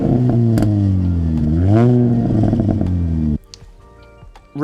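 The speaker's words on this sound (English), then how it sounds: "It does have an aftermarket exhaust on it." An R53 Mini Cooper S with an aftermarket exhaust revs up close, its note climbing and falling in a few throttle blips before cutting off abruptly, leaving faint idle and light clatter.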